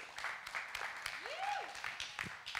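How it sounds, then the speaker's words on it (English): A church audience claps as a woman is invited up to read, sparse, scattered hand claps at fairly low volume, with a brief gliding tone and murmuring in the background. "So give her a clap."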